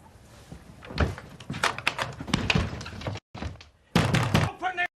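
Someone bangs on a door: a series of heavy thuds and knocks in irregular bursts, close and loud, mixed with someone shouting.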